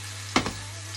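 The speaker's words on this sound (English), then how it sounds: "So that nice sizzling." Meat sears in a hot pot under a steady background hiss, broken by a brief, sharper burst of sizzling partway through.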